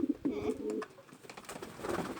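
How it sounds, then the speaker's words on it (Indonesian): A pigeon coos close by in soft, low, throaty rolls, with a few quick repeated coos at the start and another stretch later, and no talking over it. "Baik nggak burung merpatinya?"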